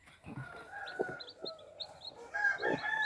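Newly hatched free-range chicks cheep in short, high, scattered peeps heard up close, with brief soft clucking from the hen beneath them.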